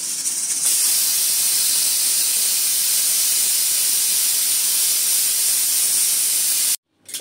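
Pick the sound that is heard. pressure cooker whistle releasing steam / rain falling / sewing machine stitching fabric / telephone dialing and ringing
pressure cooker whistle releasing steam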